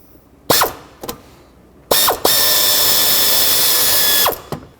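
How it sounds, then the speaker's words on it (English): A tool works a 10mm nut on the transmission dipstick tube bracket of a 2003–2021 Chevrolet Express van: a few short mechanical bursts, then a loud continuous whirring run of about two seconds, ending in brief clicks. "Drop a 10mm socket on there and then try to break it free"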